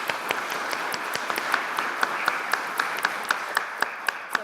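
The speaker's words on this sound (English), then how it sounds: "Can we all please say hello and a big clapping for them?" An audience claps for panel hosts at a tribunal opening, a moderate, even patter of many hands with a few sharper claps standing out.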